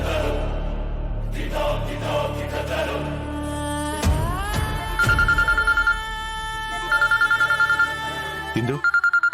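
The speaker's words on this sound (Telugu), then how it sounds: "అత్తయ్య ఫోన్ చేస్తున్నారు." A telephone ringtone sounds in a dramatic TV serial scene over a swelling music score. Repeated electronic ring pulses come in bursts through the second half, loud and close.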